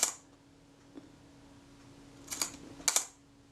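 The shutter of a Kodak Retina I type 010 camera fires during testing after repair: a few short, crisp mechanical clicks spaced apart, quiet and close against a faint background hum.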